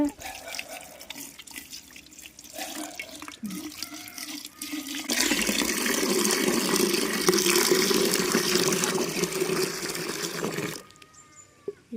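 Water poured and stirred into a homemade banana fertilizer mix for rose plants, a steady broad rush of liquid swelling for several seconds after earlier quieter handling noises, then cutting off.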